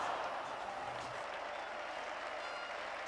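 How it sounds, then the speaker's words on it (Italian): Football crowd in a stadium applauding during a Salernitana–Lazio match, a faint, distant wash of clapping and crowd noise under a commentator's voice, steady throughout. "La Rechi applaude lo stesso."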